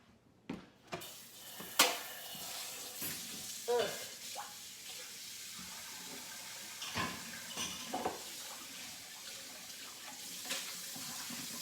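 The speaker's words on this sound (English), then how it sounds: "Let it get the sizzle in there." Food sizzles in a pan under a steady hiss, broken by clinks and scrapes of stirring utensils and a few faint clatters.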